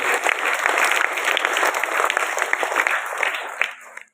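Applause for tenth standard teachers at a school celebration, a sustained round of clapping from a gathered crowd that carries for several seconds and then cuts off.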